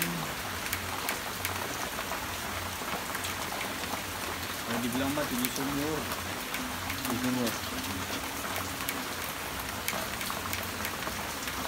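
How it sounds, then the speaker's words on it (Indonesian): Light drizzle patters steadily on surfaces outdoors by a roadside stall near a lake and waterfall trail in Pandeglang, a soft even hiss under a person speaking, with a few faint bird-like chirps. "hari ini juga kita disambut dengan hujan rintik-rintik"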